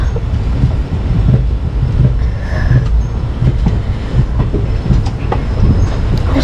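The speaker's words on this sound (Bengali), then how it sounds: "আমি গাড়িতে উঠে পড়েছি আর ট্রেনটাও ছেড়ে দিয়েছে।" A moving train rumbles steadily from inside a carriage, with low rolling wheel noise and intermittent clicks and faint squeals on the rails, no voices.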